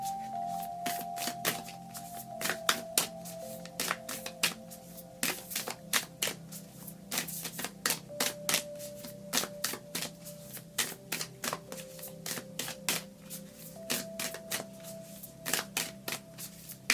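Oracle cards from a Work Your Light deck are shuffled by hand in a close, steady run of crisp papery riffles and taps lasting the whole stretch, with a faint sustained musical tone humming underneath.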